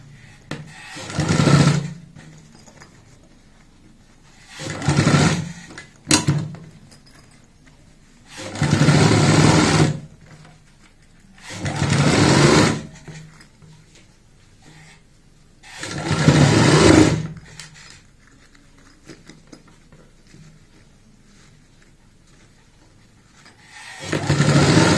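A sewing machine stitching a zipper box bag runs in six separate close bursts of a few seconds each, with quiet gaps between them.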